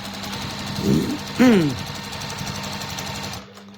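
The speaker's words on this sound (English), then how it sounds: "swivel that so that we can then start stitching again" Sewing machine stitching a festive table mat runs in a steady close hum, with a brief squeaky handling sound over it before the motor stops near the end; a voice talks over part of it.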